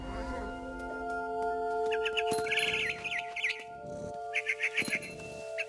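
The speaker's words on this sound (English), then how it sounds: "Then I heard chirping outside my window. It was a barn swallow going back to her nest." A small barn swallow chirps in short, quick bursts of high tweets over a steady background hum, with brief pauses between calls, in the video game What Remains of Edith Finch.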